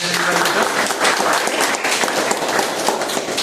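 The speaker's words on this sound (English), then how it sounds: "Fantastic round of applause again for" A Toastmasters club meeting fills with a steady round of applause, dense overlapping clapping from the audience sustained for several seconds, with voices faintly mixed in.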